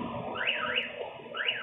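An SUV's car alarm goes off with a repeating, rising and falling electronic wail, heard in bands of sweeping tones.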